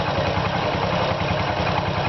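A vehicle engine runs steadily at idle with a low, even throb, part of a waste-heat electricity generator demonstration; loud and close, with no speech.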